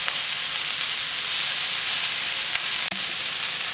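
Shrimp sizzle in a hot pan with a loud, dense, continuous frying hiss, and a single sharp clatter breaks in near the end.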